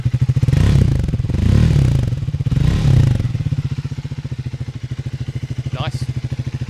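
A Triumph Speed 400 or Royal Enfield Guerrilla 450 motorcycle engine runs close by, rising and falling through a few revs before settling into a steady, throbbing idle with a rhythmic pulse, while a person talks over it.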